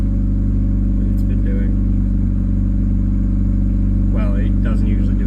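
A Honda EK Civic engine idles after starting, a steady low hum that stays constant throughout while a voice talks over it.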